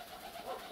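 Soft, brief cooing of pigeons at a dovecote, faint and low under a hazy background.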